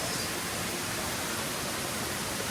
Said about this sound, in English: And welcome to Tumalog Waterfalls.